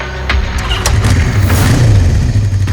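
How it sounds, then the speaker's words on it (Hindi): A motorbike engine starts up and runs loud and close, settling into a steady mid-pitched rumble with slight revving, and no voices are heard. "ये कौन जा रहा है बाइक पे?"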